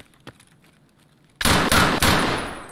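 Loud bursts of gunfire in the shooter game Escape from Tarkov, several rapid shots close by after a quiet stretch, ringing out and tailing off.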